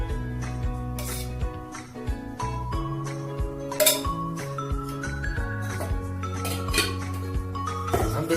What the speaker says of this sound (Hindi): अब इसे अच्छी तरह से मिक्स कर लें।